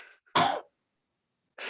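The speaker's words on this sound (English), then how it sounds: "Cough, cough." A single hard cough breaks through, with fainter throat-clearing and breathy sounds just before and after it, close to the microphone in an otherwise quiet room.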